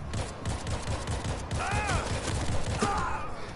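Rapid gunfire rattles through World War Z in steady, close bursts of overlapping shots, joined by a groaning zombie-like voice partway through.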